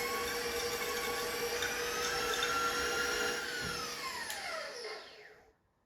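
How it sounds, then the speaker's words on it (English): A stand mixer beats a cup of salted butter on high speed, a steady whirring motor whine that holds evenly before winding down and stopping at the end, close and alone. "We are going to beat this butter on high until it's creamy."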